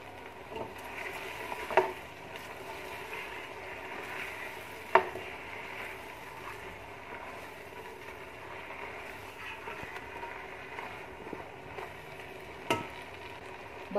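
Meat sizzles softly in a pot at close range, a steady frying hiss broken by a few sharp clinks of stirring.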